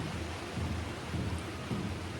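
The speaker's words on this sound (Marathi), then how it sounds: "पाऊस वाढला रे पाऊस पण वाढणार तसा म्हणजे रात्रीवरती पाऊस जोरदार पडतो" Heavy rain pours steadily at night at a village campsite, a dense, continuous wash of broadband noise with a low rumbling undertone throughout, no voices.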